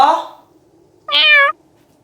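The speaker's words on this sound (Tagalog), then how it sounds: "Pusa lang pala." A single short, clear meow from a nearby cat comes after a brief human voice at the start, then quiet.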